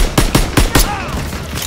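Rapid burst of four loud gunshots in Call of Duty WW2 game combat, evenly spaced and close, followed by a ringing metallic tail and fading echo.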